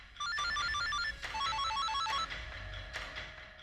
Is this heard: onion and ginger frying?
no